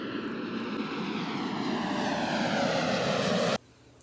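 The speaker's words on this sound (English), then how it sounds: "Cinematic drone." Drone flying close by with a steady dense whirring roar that rises slightly in pitch, then cuts off abruptly near the end to a quiet background.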